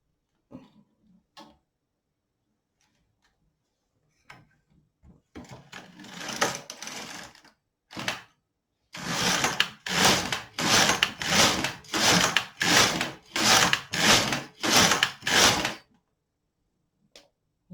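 A Brother LK 150 knitting machine carriage sweeps back and forth knitting waste yarn rows, giving about eight loud, evenly spaced rasping passes near the mic after some light handling and brief talk.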